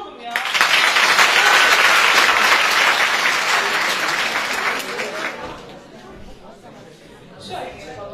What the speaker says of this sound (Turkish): Bir alkış alalım ya.